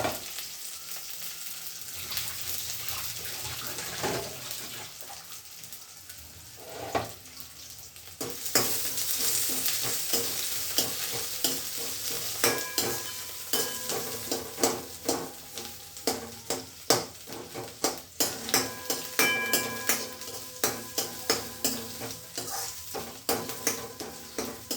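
Noodles fry in a pan with green chillies, onions and curry leaves, a steady sizzle that grows louder partway through, punctuated by repeated scraping and clanking of a utensil stirring against the pan.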